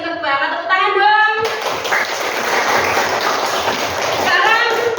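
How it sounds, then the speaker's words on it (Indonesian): Hands clap in a classroom of children at an Islamic studies lesson, a short burst of applause following a teacher's spoken praise, with voices talking over and around the clapping. "Tepuk tangan dong."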